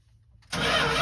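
A 1975 Winnebago with a manual choke, flooded during a first start in years, gives a brief faint crank before the engine suddenly catches and settles into a loud, steady run.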